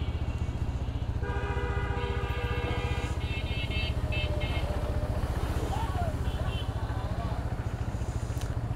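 A new motorcycle's engine runs steadily close by, a continuous low rumble throughout, with a person talking over it.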